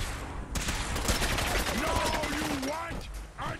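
Rapid gunfire from the player's guns in Fallout 4 rattles in dense, continuous bursts, loud and close, with whooshing and sliding tones mixed in.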